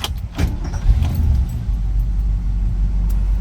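A 1966 Ford Mustang coupe with an automatic choke, already warm, is started up, with keys jingling briefly before the engine settles into a low, close rumbling idle.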